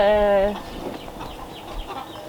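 A chicken kept in an aviary gives one loud, drawn-out squawking cluck that stops after about half a second, leaving only quiet rustling background noise.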